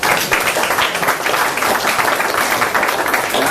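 A meeting audience applauds, a dense, steady wash of many hands clapping loudly and continuously throughout.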